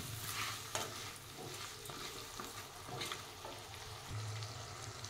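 Eggplant curry is stirred in a pan after salt goes in, a quiet close sizzle broken by repeated scraping and clinking strokes of a spoon at an uneven pace.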